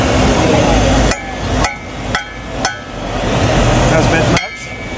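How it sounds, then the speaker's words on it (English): Sharp metal hammer blows at a Lincoln Electric welding booth on a trade show floor, four or five loud ringing strikes spaced unevenly as a part is tapped into place between tack welds, over a busy hall din. "Hammer this in and a few more tack welds on it."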